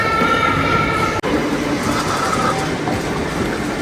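A train arrives at a station during rush hour in a Japanese town, its loud continuous rumble and rail clatter filling the platform, with a brief sharp cut partway through.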